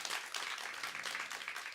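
Audience applause at a Korean arts education event featuring live croquis painting and b-boy dancing, a steady broadband wash of many hands clapping throughout, fairly soft and continuous with no voices.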